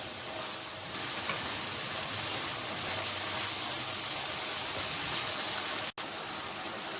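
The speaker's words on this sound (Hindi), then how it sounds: "बस इसको अब हमें फ्राई करना है 5-6 मिनट के लिए" Chicken pieces fry in a pan, giving a steady, close sizzling hiss that holds evenly for several seconds, with one sharp click near the end and no talking.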